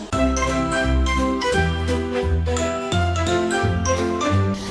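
A school first-bell ceremony at a gymnasium in Zaporizhzhia, with bright tinkling bell-like chimes ringing over steady music, loud and continuous throughout.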